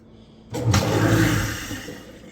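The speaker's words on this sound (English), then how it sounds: "Yeah, water coming out." Water from a hose gushes out of an in-wall drain vent behind a stucco wall, a sudden loud rushing burst that starts abruptly and holds steady with a roaring, splashing wash.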